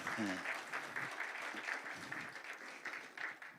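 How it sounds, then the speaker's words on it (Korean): An audience at a church preaching seminar applauds to welcome a pastor back, with dense, sustained clapping from many hands and a voice speaking briefly at the start. "박수로 다시 맞이해 주시기 바랍니다"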